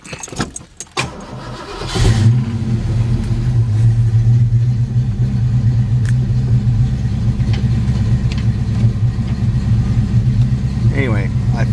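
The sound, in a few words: Ford Mustang engine cranking and revving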